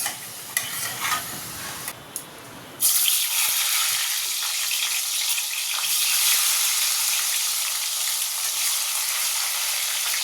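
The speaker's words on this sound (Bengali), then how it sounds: "এবার পটলটা ভেজে নেবো।" Pointed gourd frying in a pan, a loud steady hiss and sizzle that jumps up abruptly a few seconds in as the pieces hit the hot oil, with occasional stirring scrapes and no talking.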